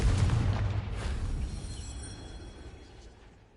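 A Confringo blasting spell explodes in the Hogwarts Legacy video game as a deep, heavy boom that hits loud at once and then rumbles away over several seconds.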